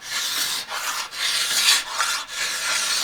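Wood being rasped off a homemade longbow limb made from two sticks, in a backyard, heard as long, loud scraping strokes repeated about five times with brief pauses between, alone with no talk.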